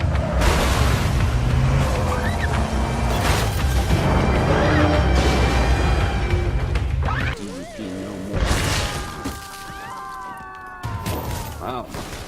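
A truck crashes in the game Infamous: Second Son, with loud smashing impacts, a whoosh and heavy booming debris over a dense rumbling bed, then a quieter stretch with tonal effects and a further crash near the end.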